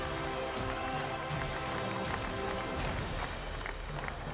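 A stadium crowd applauds and cheers for former football goalkeeper Jorge Campos at a People's League final, with steady, dense clapping and crowd noise throughout.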